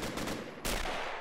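Video game machine gun fire in Men of War: Assault Squad 2, a rapid burst of shots at the start, then a brief gap before a second loud burst that rattles on to the end.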